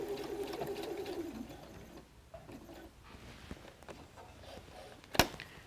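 A sewing machine back-stitches a messenger bag pocket flap in a short whirring run, then falls to faint mechanical rustling and ends with one sharp click.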